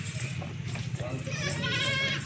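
A goat for sale bleats over a busy background, with people talking nearby throughout the short stretch.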